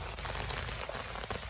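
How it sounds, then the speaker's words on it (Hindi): Winter rain falls steadily nearby, a dense, even hiss of drops striking the ground and other surfaces with faint scattered patters and no pauses. "अच्छी बारिश हो गई है।"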